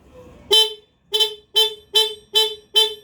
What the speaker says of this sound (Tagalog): Sige, busina.